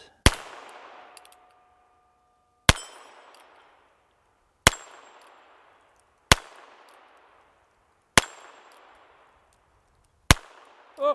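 Six sharp shots from a Ruger New Bearcat .22LR six-shot flat-top revolver, fired one at a time about every 1.5 to 2 seconds, each a loud crack with a short ringing tail and silence between.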